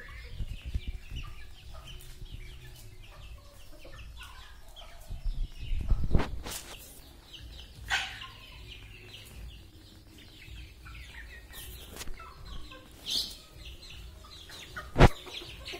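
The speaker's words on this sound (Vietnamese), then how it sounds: "Gà sao ôi đánh nhau này" Guinea fowl squabble and fight in a backyard flock, with scattered clucks, squawks and sharp wing-flapping bursts coming at irregular moments against a quiet background.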